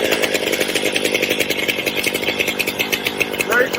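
A STIHL MS 500i chainsaw runs loud and close with a steady pulsing buzz after its first starting pull.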